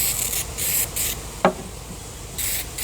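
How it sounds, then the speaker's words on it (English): Several short hissing bursts from an aerosol can of water-dispersant lubricant sprayed on secateurs, coming in quick pulses with a brief click between them. "give it a bit of a spray with a water dispersant spray"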